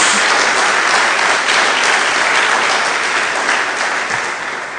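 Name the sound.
congregation applauding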